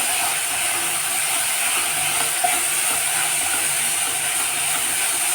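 Chopped vegetables for udi palya frying in a pan, a steady, even sizzle and crackle that holds constant throughout with no talking.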